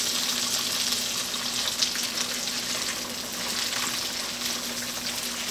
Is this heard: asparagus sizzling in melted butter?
yes